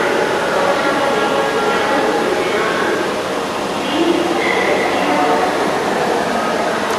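Riding inside a metro rail train in Dhaka, a steady rumble and whir of the carriage running along the track fills the whole stretch, with faint tonal hums drifting over the constant roar.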